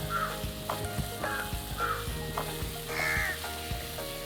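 Cabbage sizzling and being stirred in a hot pan for cabbage kothu kari, a steady fry with repeated scraping strokes of the spatula, close and moderately loud, with no talk.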